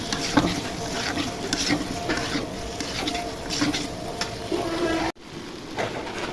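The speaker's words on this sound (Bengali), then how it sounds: "এখন কেটে রাখা টমেটোগুলো দিয়ে দিব, নেড়ে চেড়ে কিছুক্ষণ ভেজে নিব।" Chopped tomatoes sizzle in a pan with green peas for a cabbage and potato curry, stirred steadily with scraping strokes; the frying hiss stays loud and constant until a brief cut near the end.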